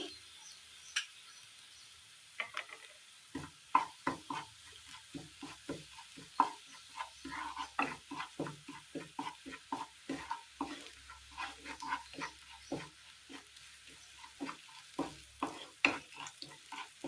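Coriander, turmeric and chili powder fry in hot oil for a curry. Soft crackling sizzles come in irregular bursts alongside light stirring scrapes, fairly quiet and close, with no talking.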